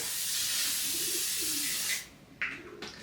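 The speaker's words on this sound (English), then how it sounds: "let's give that a quick spray" A fine mist of makeup setting spray hisses steadily for about two seconds, then stops, followed by a couple of soft clicks.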